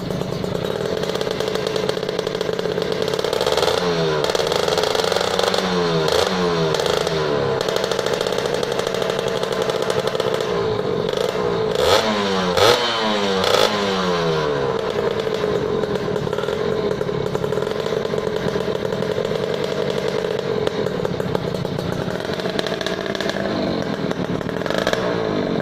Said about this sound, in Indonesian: Gas lagi, Dra.